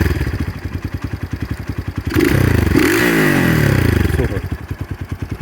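A 2022 X-Pro Titan DLX 250cc dirt bike with a newly installed carburetor idles close by, its steady rapid pulses briefly swelling into a louder revving burst midway before settling back to the even idle rhythm.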